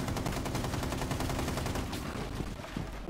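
Rapid automatic gunfire in Rainbow Six Siege, a dense run of quick shots rattling continuously for a few seconds, fairly close but muffled under the game mix, with no talk over it.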